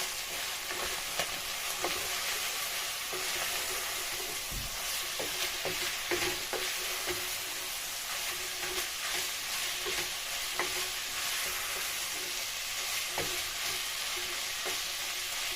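Garlic stirred in a hot frying pan for spaghetti bolognese with vegetables, giving a steady close sizzle broken by frequent small scrapes and taps of the utensil against the pan, with no talk.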